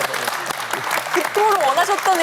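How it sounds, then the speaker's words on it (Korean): An audience applauds during a Korean TV ceremony honouring a long-serving archivist. The clapping is moderate and continuous, while a voice speaks over it and grows more prominent toward the end. "박수 좀 쳐주세요"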